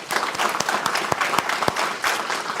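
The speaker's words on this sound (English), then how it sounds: "I would now like to have a round of applause for our partners who aren't here but are celebrating with" A room full of people applauds partners at a college district celebration, a thick, even patter of many hands with a few sharper individual claps standing out, moderately loud throughout.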